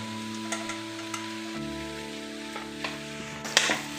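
Eggs sizzle and fry in a hot pan for egg chowmein, a steady crackling hiss with intermittent scraping stirs from two spatulas, close and continuous.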